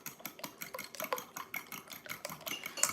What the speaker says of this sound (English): we're going to scramble up our eggs now